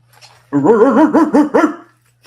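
A dog barks about five times in quick, rhythmic succession, loud and close, with nothing else heard around the barks.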